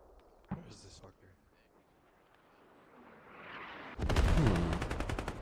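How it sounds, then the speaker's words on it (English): Artillery bombardment in a video game, heard as a faint early thump and then, after a rising rumble, a loud burst of rapid overlapping explosive cracks and booms near the end, with a voice speaking quietly in the background. "Oh, artillery on point. That's artillery."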